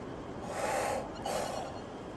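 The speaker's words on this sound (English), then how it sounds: "You'll accomplish this by breathing in on the syllable O." A relaxed deep inhale shaped on an O vowel, taken as breathing practice for tuba playing: two soft, airy breaths close to the microphone, faint and alone.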